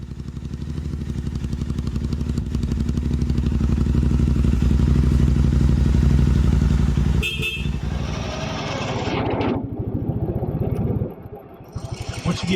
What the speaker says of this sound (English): I'm going to hop on a motorcycle and hit the road